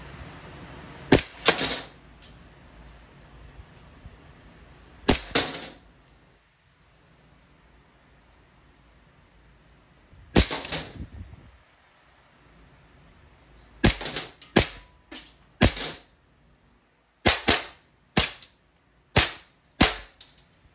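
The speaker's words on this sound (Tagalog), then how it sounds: "Testing po, Colt 1911 Classic Airgun Pistol by Umarex. Firing." An Umarex Colt 1911 Classic CO2-powered blowback steel ball airgun pistol fired close by, sharp cracking shots spaced out at first, then quicker in a run of several near the end, with quiet between them.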